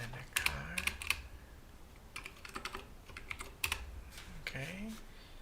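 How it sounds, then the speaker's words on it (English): Fairly quiet typing on a computer keyboard in uneven bursts of sharp clicks, with a voice murmuring faintly in the background. "Now this is the keyboard again."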